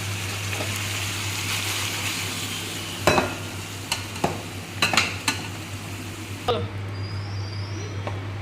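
Soybean chunks frying in a pan for a vegetarian soybean curry, a steady low sizzle with a few sharp clinks of a utensil stirring against the pan.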